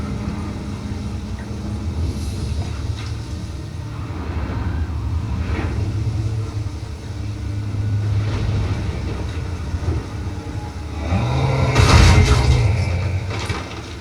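Distant rumbling and creaking from a Leshen, a forest monster in The Witcher 3, attacking from afar; a steady low mechanical rumble swells with a louder, harsher burst near the end, with no talking.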